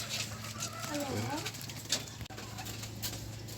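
A hen just let loose clucks and calls in a short warbling burst close by in a small backyard poultry pen, with faint rustling and background noise around it.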